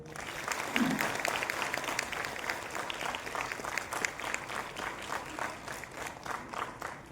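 An assembly at a Buddhist dhamma gathering applauds as a monk is welcomed: sustained clapping from many hands, fairly distant and moderately loud, with a brief murmur of voices early on.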